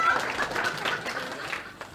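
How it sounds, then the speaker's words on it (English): A student audience claps after a capstone film screening, a short burst of moderate applause that thins and fades out over about two seconds. "I'll give 5 seconds for a proper applause."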